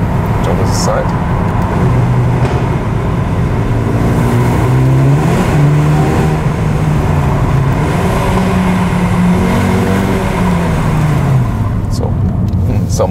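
A Mercedes-AMG A35 drives through a road tunnel with a window open. Loud, echoing engine and road roar fill the cabin as the revs swell and fall, and a voice speaks at times over the din.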